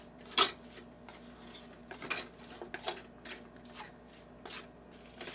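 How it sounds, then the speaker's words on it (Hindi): Spatula and utensil clatter against a pan as spring roll filling is stirred with oyster sauce, giving a series of light scraping clinks and knocks at close range with no talk. "अच्छी तरह से मिक्स करेंगे"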